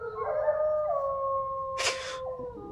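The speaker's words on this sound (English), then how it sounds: "the howling of wolves erupts from outside" Wolves howl outside a castle in a radio play, with long sliding howls overlapping and sustained, broken briefly by a short burst of noise.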